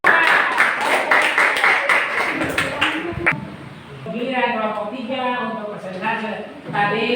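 A classroom group claps for a student, a short burst of applause at the start, followed by a teacher speaking.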